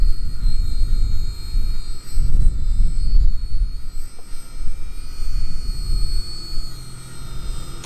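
A tiny RC ERA C032 1/48 scale Huey model helicopter flies outdoors in a 5 to 8 mph breeze, giving a steady high-pitched motor whine over continuous wind buffeting on the microphone, with no talking.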